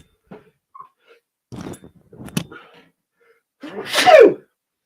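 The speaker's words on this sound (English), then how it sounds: "I'm going to sneeze again." A few quiet breaths and sniffs lead into one sharp, forceful sneeze near the end, close up with no talking.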